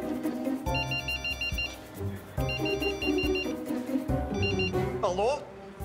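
A telephone rings with a repeated electronic ringtone in three bursts, close and clear, over a faint background hum.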